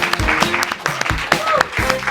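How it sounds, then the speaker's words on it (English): Audience applause at a campus late-night talk show, a crowd clapping in bursts with cheers and voices mixed in, fairly loud and close. "It was applause for that."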